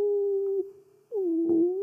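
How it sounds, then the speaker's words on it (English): A long, wavering howl holds a steady pitch, breaks off briefly, then rises again in a second drawn-out howl, fairly close and clear. "It sounds like a dog."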